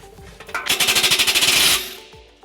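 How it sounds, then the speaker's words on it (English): A power tool spins a 15mm socket to loosen a muffler clamp on a 2011 Nissan Altima, giving a close, loud burst of rapid rattling hammer pulses lasting about a second before it winds down. "we're going to loosen up this clamp right here using a 15mm socket"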